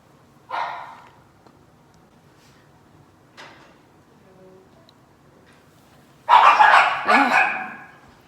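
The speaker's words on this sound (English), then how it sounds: "Stop barking." A dog barks a few times, sharp single barks at first with gaps between, then a louder, closer pair of barks near the end.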